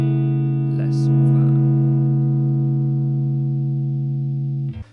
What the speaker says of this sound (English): So you're getting those kind of Fendery break-up tones with the vibrato channel